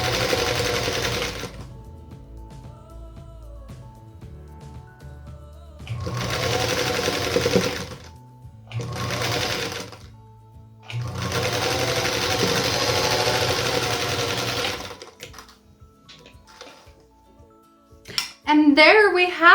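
Sewing machine piecing a mosaic star quilt block, whirring in several bursts of a few seconds each separated by pauses, with brief handling clatter near the end.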